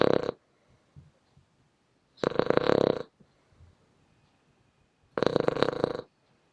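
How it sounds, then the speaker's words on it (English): A man aboard a boat snores in three loud, rasping, rumbling breaths spaced about two and a half seconds apart, with near-silence between them. "That's him snoring."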